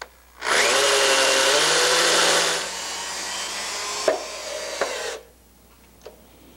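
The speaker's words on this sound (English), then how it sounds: "We're drilling into a concrete slab, so we're going to use a hammer drill and concrete anchors to mount this base" A hammer drill bores into a concrete slab to set anchors for a dumbwaiter base, a loud, close, continuous grinding whine for about two seconds that tapers off, then a few sharp knocks and clatters.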